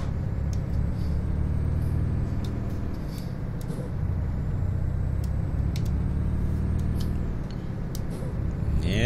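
A heavily loaded Volvo truck engine drones and labors uphill continuously at close range, a deep steady rumble with occasional clicks and hisses over it.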